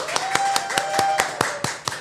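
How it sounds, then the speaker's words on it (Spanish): Sparse applause welcomes Dr. Cristian Salas onto a Spanish-language political talk programme, about ten distinct, evenly spaced sharp claps close by, with a faint tone running beneath them. "Quiero dar la bienvenida con un fuerte aplauso al doctor Cristian Salas"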